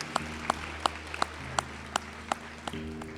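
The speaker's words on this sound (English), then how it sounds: "Round of applause for these great Lambeth students here" At a nursing white coat ceremony, scattered hand claps greet Lambeth students, sharp separate claps spaced in an uneven rhythm over a low, sustained tonal hum.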